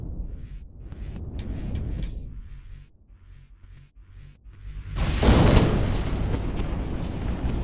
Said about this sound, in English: I think the missiles hit you on that too